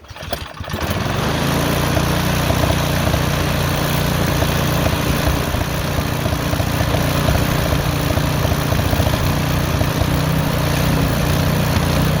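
A Craftsman snowblower engine sputters to life after a brief start and then runs steadily at a loud, constant drone with rough mechanical chatter, nearby and alone.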